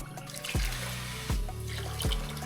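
Two and a half glasses of water pour into a pot for sugar syrup in three distinct splashing gushes, each followed by a short pause, close and fairly quiet with no talking.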